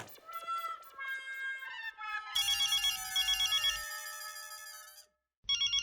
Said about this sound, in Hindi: अंजलि का फोन